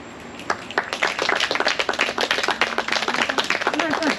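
An audience at a poetry reading claps in a dense, close burst of applause that rises and holds, with voices audible beneath it.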